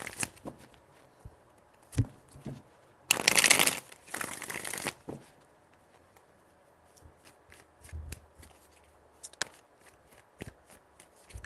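Tarot cards being shuffled by hand during a reading, with a longer riffle-like burst of papery rustle in the middle and scattered soft taps and card slaps before and after, close and fairly quiet, with no talking.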